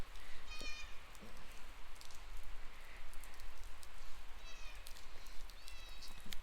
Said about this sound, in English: But yeah, it's starting to rain.